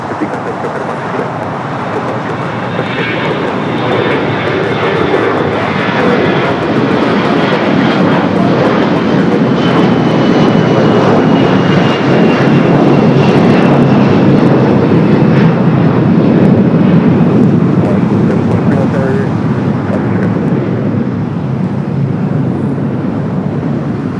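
Fixed-wing airliner taking off from runway 25 right at LAX, a loud sustained jet engine roar that swells and holds steady throughout, heard from nearby with a faint rising whine.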